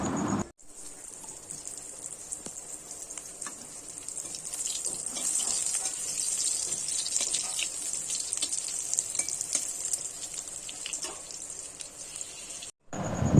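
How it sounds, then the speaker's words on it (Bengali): Dishes being scrubbed in a home kitchen sink under a running tap, a continuous rush of water with scattered light clinks and knocks of utensils, moderately quiet and without talk. "এদিকে আমার মেয়ে বাসন মাজছে।"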